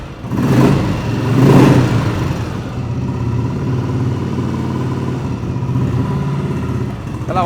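A vintage Royal Enfield Bullet motorcycle engine runs close by, swelling through two loud revs early on before settling into a steady, thumping idle that carries on alone to the end.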